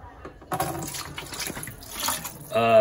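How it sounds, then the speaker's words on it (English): Oily sludge and water being scooped out of a removed engine make wet sloshing and splashing sounds up close. The scoops come in irregular bursts and the last one is the loudest. "start scooping out some of this sludge"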